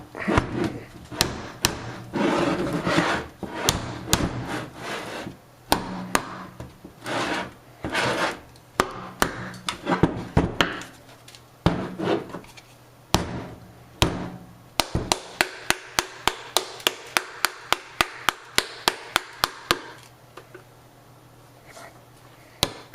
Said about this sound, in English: So I figured I would get the tar all nice and brittle and try whacking it some and